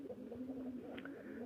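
Native pigeons in a small farm coop give a brief, low humming coo, fairly quiet and close, with no talking.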